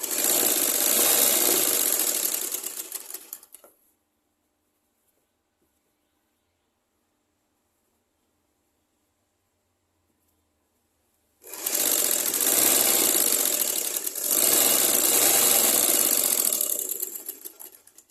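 A sewing machine stitches a petticoat in two loud, steady runs, the first lasting a few seconds, then a long silent gap before a second longer burst with a brief pause in the middle.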